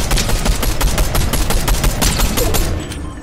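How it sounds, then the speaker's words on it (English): Loud, close Fortnite gunfire fills the moment, rapid overlapping shots in a dense continuous burst that barely lets up. "who is shooting me?"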